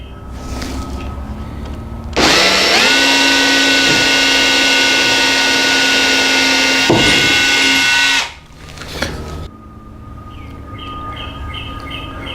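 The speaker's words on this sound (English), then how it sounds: "The best way to drill this out is to drill it from the front of the buggy" A power drill bores through a dune buggy headlight mount, a loud steady whine running for about six seconds before stopping, with quieter handling noises before and after.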